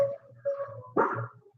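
A dog barks close by with a few short, sharp barks and whines in a quiet indoor setting during a live meditation session, heard alone against soft background tone.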